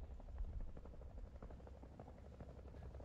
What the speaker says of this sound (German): Mit Hubschrauber von uns, sehr schön.